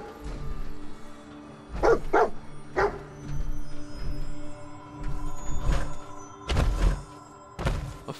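Dogmeat, the dog companion in Fallout 4, barks in a series of sharp, loud barks with dull thuds mixed in, spaced irregularly over several seconds and close by, with no talking.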